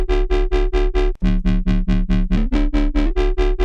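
Synthesized sine-based tone with added harmonics and distortion, pulsing rhythmically from an LFO in a fast steady throb, loud and close, with a brief dropout and shifting pitch partway through.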